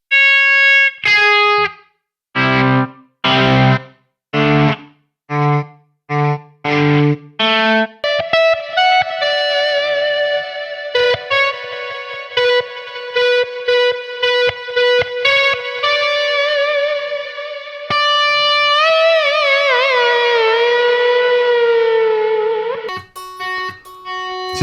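An electric guitar plays through a Quad Cortex Mini with its noise gate switched off. Short, choppy distorted chord stabs come first, then sustained, effect-laden notes and a bending, warbling phrase that rings loudly before cutting off near the end.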